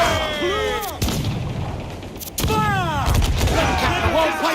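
Ship cannons boom in a naval battle in the video game Assassin's Creed Black Flag: two loud broadside blasts about a second apart, with booming rumble, shouting crew and battle noise between them.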